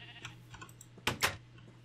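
Sheep in Minecraft bleat in two short, loud calls near the end, after soft clicks of keys and a faint low hum.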